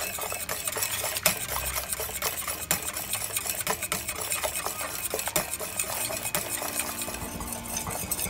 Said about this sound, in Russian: Быстренько-быстренько мешаем. И заваривается крем.